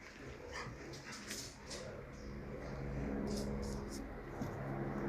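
A dog at a guard-dog training facility whimpers and gives a few soft barks, fairly faint, over a low background rumble.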